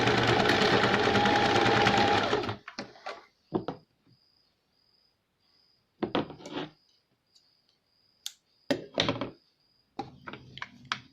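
A sewing machine stitching a cord onto a fabric baby cap runs in a steady close whir for about two seconds, then gives way to scattered clicks and short handling knocks amid quiet.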